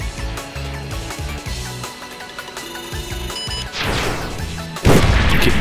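Loud booming shots ring out in the video game Sky Rogue, two heavy blasts standing out over a busy layer of game music and effects.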